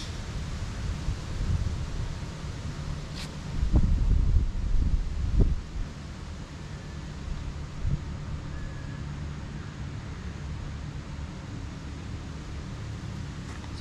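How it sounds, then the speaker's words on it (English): A strong gust of wind sweeps across an open golf course, a steady low rumble that swells loudest for a couple of seconds before easing back to a constant breezy roar, with no voices. "I think I hit in the biggest gust of the wind of the day."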